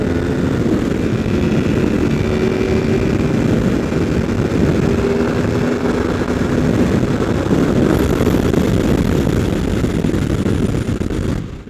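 A new motorcycle accelerating at wide-open throttle on an open road, a steady loud engine drone mixed with heavy wind rush across the microphone, continuous throughout with no talk.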